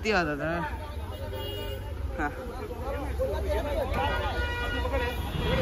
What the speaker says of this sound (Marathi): आणि बघ किती हॉर्न होत तिथं.